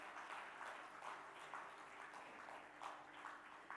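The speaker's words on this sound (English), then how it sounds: "A round of applause." Audience applause at a launch ceremony for the SWAYAM Plus education platform, a steady, moderately distant patter of many hands clapping with no break over a few seconds.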